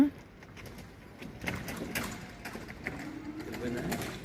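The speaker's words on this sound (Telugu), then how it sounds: "ఏయో పిట్టలు కూడా తిరుగుతున్నాయి నైట్ టైము" Birds call at night in a lit park area beside a river in Nainital, with a faint cooing over a low background hum, distant and soft.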